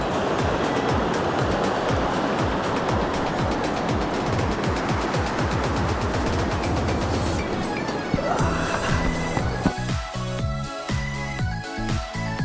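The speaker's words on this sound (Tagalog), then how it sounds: "Yun ang river." A steady rush of a flowing river fills the scene, loud and continuous, with rhythmic mechanical ticking and later a swell of background music.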